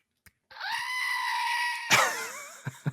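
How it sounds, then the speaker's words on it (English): A goat scream sound effect: one long, loud, strained bleat holds for over a second and then breaks into a wavering cry, followed by a few sharp clicks. "So Andy, let's get another goat scream in there."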